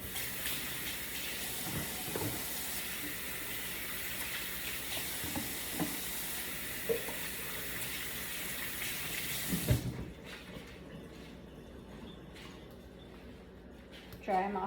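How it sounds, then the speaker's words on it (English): Kitchen tap running while hands are washed during brownie baking. A steady hiss of water with a few soft clunks lasts about ten seconds, then stops abruptly, leaving quiet room tone and a brief thump. "I'm gonna go ahead and wash my hands."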